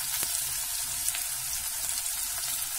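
Okra and ginger fry in a pan with a steady, close, crackling sizzle that holds evenly throughout, with no voices over it.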